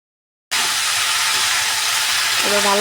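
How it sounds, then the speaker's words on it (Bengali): Turmeric, salt, chili powder and cumin powder stirred into a pan of bele fish curry with potato and tomato, starting abruptly with loud steady sizzling and hiss from hot oil, a faint tonal hum joining near the end. "এবার ভালোভাবে নেড়ে চেড়ে দেবো।"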